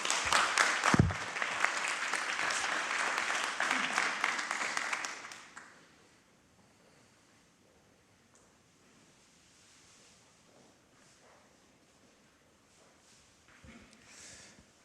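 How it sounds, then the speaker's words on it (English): Full-room applause after a demo at a generative AI hackathon prize ceremony, dense clapping for about five seconds that dies away into quiet room tone with faint rustling. "if we can just have one more round of applause for everyone"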